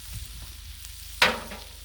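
Ghee hits a hot Blackstone griddle with a sudden bright sizzle burst that quickly fades to a low hiss, preceded by faint scraping.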